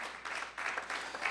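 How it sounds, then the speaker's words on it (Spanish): A church congregation breaks into brief applause, several short surges of clapping rising and falling in quick succession at moderate volume. "Dele una ofrenda de palmas al Señor."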